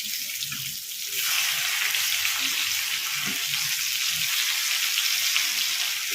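Sheela fish frying on a hot tawa and turned over: a loud, steady sizzle that swells after about a second and holds, close, with no talking.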